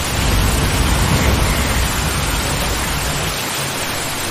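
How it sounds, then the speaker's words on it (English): Heavy storm downpour during a night blackout, a loud steady broadband rush of rain filling the whole clip, easing slightly toward the end, with no voices. "there's this heavy downpour of the storm that makes it hard to see ahead"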